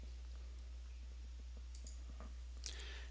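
Faint, short mouse clicks as a list item is selected, with a couple of soft taps standing out over a steady low electrical hum.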